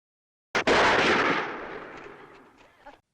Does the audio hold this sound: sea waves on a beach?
no